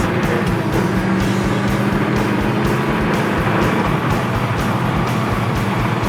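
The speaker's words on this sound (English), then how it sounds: "Rip it through the gears, and it's seamless." A Ford Mustang GT coupe with a close-ratio gearbox roars loudly and steadily as it accelerates hard through the gears, its engine note pulsing in a rapid, continuous rhythm.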